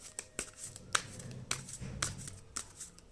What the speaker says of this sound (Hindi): मैं एक एक करके कार्ड्स लूँगी